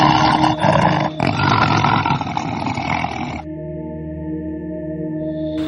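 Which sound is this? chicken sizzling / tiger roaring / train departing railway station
tiger roaring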